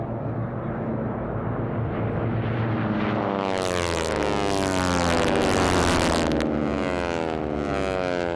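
T6 race planes at an air race, 1,340 cubic inch air-cooled Pratt & Whitney radial engines with 9-foot metal propellers going supersonic: a loud, continuous roar with a rasping propeller buzz that swells and shifts pitch as they pass close by.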